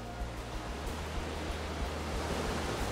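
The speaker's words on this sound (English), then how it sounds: "This is Poulinas Waterfall." Poulanass Waterfall in Ireland, a steady broadband rush of falling water, faint and continuous with no talk.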